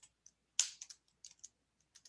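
Keystrokes tapped out on a computer keyboard while writing a Microsoft Word document, a quick irregular run of close, crisp clicks with short pauses between bursts, no talking.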